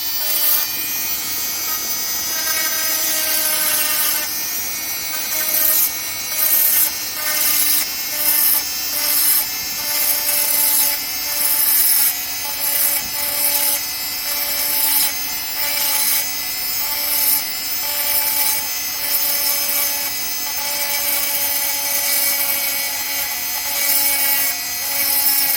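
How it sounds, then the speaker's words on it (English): A grinder flattens the back of a turquoise jewelry piece with a steady, loud whine. Rhythmic rasping pulses repeat as the piece is pressed against it again and again, with no talking throughout. "So I'm going to grind the back flat"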